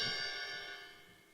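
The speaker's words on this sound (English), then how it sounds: "You use the bell on the ride." A ride cymbal's bell struck on a drum kit, a single bright ringing ping with strong sustained overtones that decays slowly, heard alone and fairly faint.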